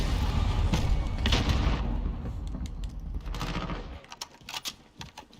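Call of Duty match: a heavy grenade blast rumbles at the start, trailing into scattered sharp gunshots and short bursts of automatic fire, loud and close, with no talking.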